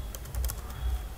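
A computer keyboard clicks in a short burst of keystrokes, close and fairly crisp, over a low background hum.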